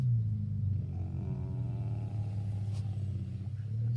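A kid's small race car rolls past in a shop yard, its motor a steady low rumble that swells and fades without any talk.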